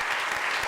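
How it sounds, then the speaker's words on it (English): A brief burst of steady audience applause for an expert panel at a science festival event, dense clapping filling the moment with no voices over it. "please give me a massive round of applause for our experts, George, Matt, Laura, and Nick."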